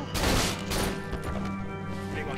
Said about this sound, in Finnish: Täällä ampuu.